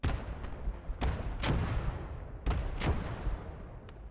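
A 122mm howitzer firing in the WWII game Gates of Hell: Ostfront, with three heavy booming shots about a second apart, each a loud blast with a rumbling tail.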